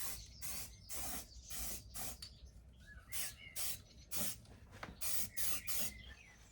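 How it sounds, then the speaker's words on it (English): Quiet aerosol spray hisses in repeated short bursts, each lasting about a second, with brief gaps between them, spray-painting a part on a V6 Mini car. "Careful not to spray the wiring loom while you're doing that."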